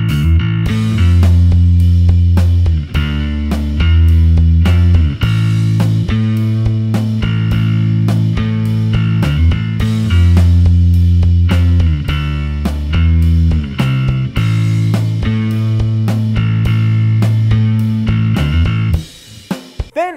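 Big grinding, distorted bass guitar tone playing along with a full backing track, steady and loud throughout with rhythmic note attacks, ending in a brief cutoff.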